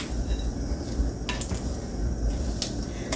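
Brownie batter tipped into a greased 8x8 pan, giving soft, wet squishing and scraping with a few sharp clicks of a utensil against the pan, close and fairly quiet.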